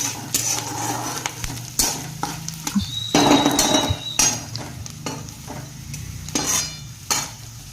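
Soaked poha with turmeric is stirred in a pan, with close, loud scraping and clinking of a spoon against metal in uneven bursts over a soft sizzle, and no talking.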